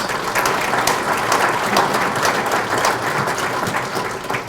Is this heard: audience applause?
yes